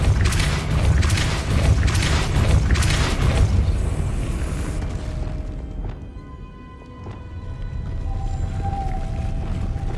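Depulso force spell cast in the Hogwarts Legacy video game: a loud, deep rumbling boom with a heavy low-end surge that fades after a few seconds into quieter game ambience.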